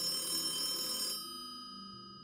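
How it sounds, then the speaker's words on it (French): An old telephone rings with a bright, steady electric bell, loud and close for about a second before cutting off and leaving a faint ringing tone that lingers alone. "Il ne va pas attendre longtemps avant d'entendre son téléphone sonner."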